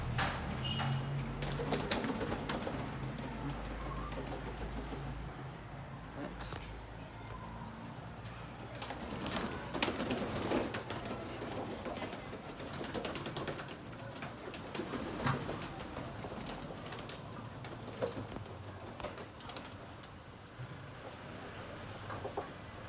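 Pigeons bathe in water, their soft splashing and flutters mixing with repeated low cooing, all fairly faint and continuous.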